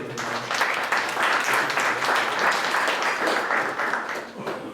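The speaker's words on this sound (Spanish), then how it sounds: "También les pido un aplauso para él." Sustained audience applause at an academic talk on ethics and law at a university campus in Mexico, a dense steady wash of many hands clapping at moderate distance for the full span, with a faint voice murmuring underneath.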